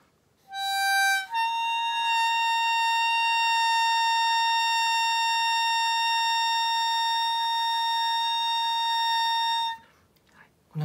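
Blues harmonica overblow on hole 6, a pure reedy tone that starts with a brief short note, then settles into one steady held pitch for about eight seconds before cutting off, close and loud with no talking.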